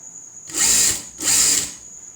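A sewing machine stitches a folded chudidar side slit in two short bursts of fast whirring, close and clear, separated by a brief pause.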